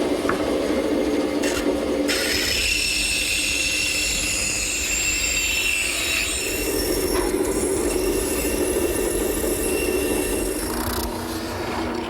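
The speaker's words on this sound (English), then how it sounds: "A little bit of touch-up with my drum sander." A drum sander touches up a rustic wooden whirligig part, a loud continuous grinding whir with shifting screechy tones as the wood is pressed against the drum, steady throughout.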